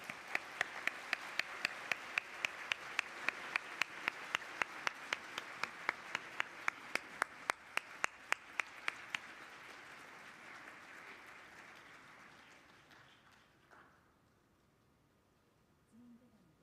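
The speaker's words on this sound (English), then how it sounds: "please give him a round of applause" A sustained round of applause from a conference audience at a workshop, many hands clapping steadily for about ten seconds, then thinning to scattered claps and fading into room murmur.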